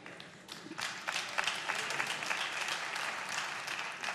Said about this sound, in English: It's a bit of a feeble clap because many here don't even know what that means.